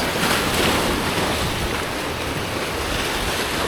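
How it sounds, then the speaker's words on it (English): Ocean surf pounds against rocks and cement breakwater blocks, a continuous loud roar of breaking water with some wind noise across the microphone and no talking. "massive waves hitting the rock or hitting these cement thingies"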